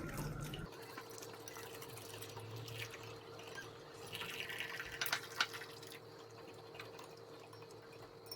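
Hot water trickles and drips into a spoonful of tomato paste in a kitchen, a faint, steady liquid pour with a brief louder splash midway, no talking.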